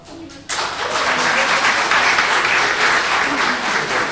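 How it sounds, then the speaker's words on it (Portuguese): Audience applause at a carnival evening gathering, a dense steady wash of many hands clapping that bursts in after a brief quiet moment and holds loud and even to the end. "Por isso mesmo, merecem todos os nossos aplausos."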